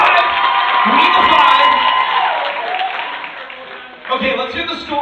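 A live comedy-show audience claps and cheers loudly, with whoops and shouts over sustained applause that dips briefly and then swells again.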